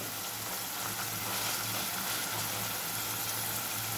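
Paneer sizzles steadily in hot oil in a pan, a constant close hiss of frying with no breaks and no talking.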